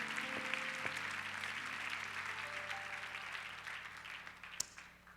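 A church congregation applauds during a Spanish-Korean worship service, fairly quiet, even clapping over a low sustained organ or keyboard chord, with a sharp louder clap near the end.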